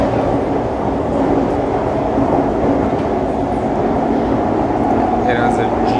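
A Siemens C651 train in Singapore, with older-generation GTO-VVVF traction control, runs with a loud, steady motor drone and rolling rumble inside the carriage, and tonal whine rising faintly near the end as voices talk.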